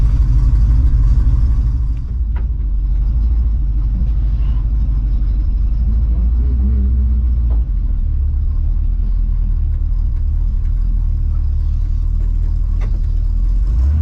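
A project car's engine rumbles steadily from inside the cabin while driving on a road, a deep continuous drone with small shifts in load and no talking.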